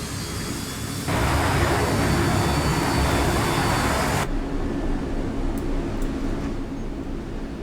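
A jet aircraft at afterburner in the naval combat game Sea Power, a loud, steady broadband roar that swells abruptly after a second, holds, then drops to a lower, duller rumble, alone without voices.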